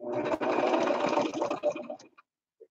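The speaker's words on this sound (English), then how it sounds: "I'm coming forward a couple of stitches, back a couple, then I'm going to come right around this one with a big wide seam" A sewing machine stitching a big, wide quilt seam gives a close, steady mechanical whir for about two seconds, then stops, leaving a brief faint tick.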